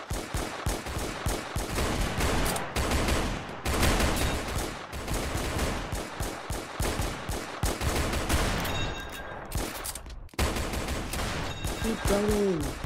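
Roblox war battle with heavy gunfire, dense overlapping automatic bursts and single shots crackling loudly almost without pause, briefly dropping out before resuming.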